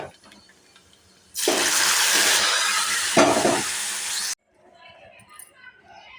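Curry leaf tempering (talimpu) for a fenugreek-leaf tomato dal sizzles loudly in a hot pan for about three seconds as it is stirred, then cuts off sharply, leaving quiet room sound.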